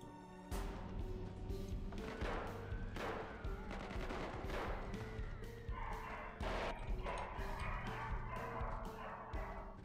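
Rapid in-game gunfire from the zombie survival game Project Zomboid, with bursts of loud shots repeating across the whole stretch. A neighbor's dog barks in the background.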